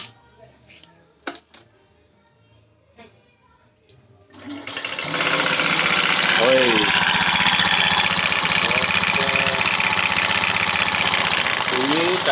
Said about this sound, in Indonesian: Bunyi dari depan dan bunyi dari belakang ya, ada bunyi kemerincing.